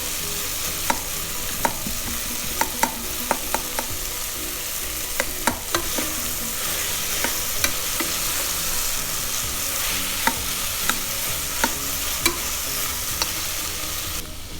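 Ground masala is stirred into sambhar in a cooking vessel, a steady hissing simmer with irregular scrapes and clinks of a spoon against metal, close and fairly loud.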